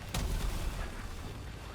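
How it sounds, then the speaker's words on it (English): A deep, booming explosion in the video game Valheim, one heavy low thud that rolls off into a rumbling tail, fairly loud with no talk over it. "Okay, I heard an explosion."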